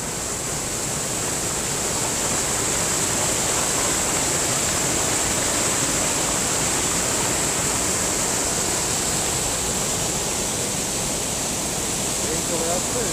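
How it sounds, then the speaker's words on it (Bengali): A stream of water tumbling down a small waterfall, its flow somewhat gentle, makes a steady, continuous rushing hiss that holds evenly for the whole stretch with no voices over it. "এখানে জলের স্রোতটা একটু কম বলে আওয়াজটা একটু কম।"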